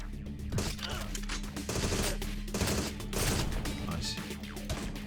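Rapid bursts of gunfire from a Perfect Dark-style spy shooter video game fill the scene, loud and continuous with dense volleys and crashes, while players chatter and exclaim over the top.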